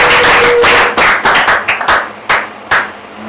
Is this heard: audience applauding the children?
yes